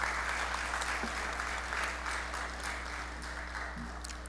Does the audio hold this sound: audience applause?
yes